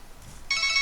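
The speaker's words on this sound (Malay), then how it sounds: "bunyi telefon bincang" A telephone rings in a shop, a short bright electronic trill that starts abruptly after a moment of near silence.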